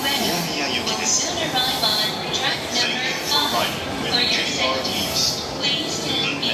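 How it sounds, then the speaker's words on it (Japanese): A JR Yamanote Line commuter train rumbles and clatters steadily close by as it arrives at a station platform, with faint squeals over the rolling noise while a platform announcement talks over it. "山手線到着です。お下がりください。"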